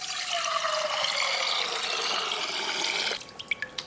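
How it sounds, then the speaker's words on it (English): Liquid egg glugs steadily out of a carton for about three seconds, a continuous close pour that cuts off abruptly and leaves a few small drips. "I'll just pour it out like this."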